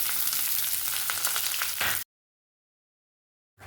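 Sliced onion sautés in a pan while cluster beans curry is being made, with a dense close sizzle and some stirring for about two seconds, then silence.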